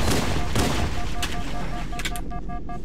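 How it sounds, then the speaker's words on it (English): Gunfire aimed at a wall in the Halo video game, a loud continuous burst of rapid shots with repeated game sound effects and no speech. "Gonna shoot the wall"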